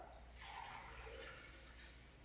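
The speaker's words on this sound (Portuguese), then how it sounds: "Adiciono então a água." Water poured into a blender during a beverage-making class, a soft continuous splashing and trickling pour lasting a couple of seconds, faint and alone.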